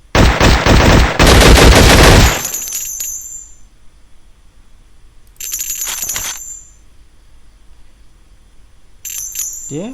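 Video game Infectonator: Survivors gunfire opens with a loud, rapid automatic burst, then gives way to bright chiming pickup tones, with another brief burst and more chimes later on.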